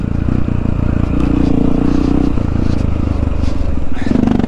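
A Honda XR650L motorcycle engine thumps loud and close while riding on the Cow Mountain trails, a continuous throbbing rumble with shifting revs and some clatter underneath.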